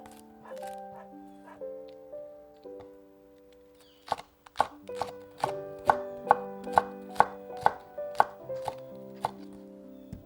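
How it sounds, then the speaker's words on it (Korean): A knife quickly slices seeded green and red chili peppers on a cutting board, a rhythmic run of crisp taps, close up over soft background music. "청고추와 홍고추도 씨를 발라낸 뒤 썰어 넣을게요."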